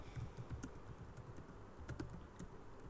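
Keys tapped on a computer keyboard as a search term is entered, a soft, quick run of light clicks in bursts, close and quiet with no talking.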